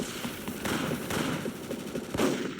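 Gunfire in the video game MicroVolts: Recharged, dense bursts of rapid shots crackling continuously and fairly loud, with no speech over them.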